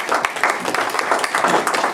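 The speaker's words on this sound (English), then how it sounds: "big round of applause to these guys" Audience applause after a live tribute set at an Elvis Presley birthday show, a dense steady patter of many hands clapping throughout, fairly close and loud, with no talk over it.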